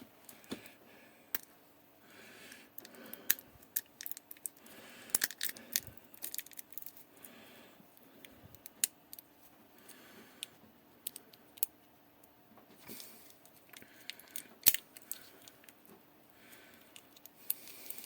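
A plastic-wrapped ER20 collet chuck packet being unwrapped, a quiet, irregular stream of crinkles, crackles and small clicks at close range with no talking.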